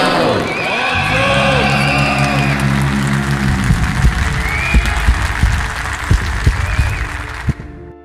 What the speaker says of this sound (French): le public qui hurle le nom du vainqueur